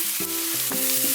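Onion, carrot and ham being stir-fried for fried rice, with a few sharp scraping strokes of a utensil against the pan over a steady sizzle, no voices.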